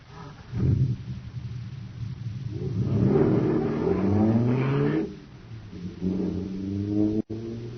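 A supercharged jet car engine effect from a radio drama starts up with a deep roaring, foghorn-like drone that swells into a loud rising whine, then drops away and revs again briefly before cutting out.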